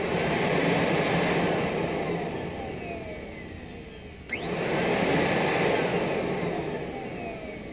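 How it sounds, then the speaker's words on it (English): An electric lane machine's vacuum motor runs with a loud, steady whining roar, sagging briefly near the middle before surging back up to full strength and holding there. "when we plug our lane machine back in and go to that output, we should be able to turn that motor on"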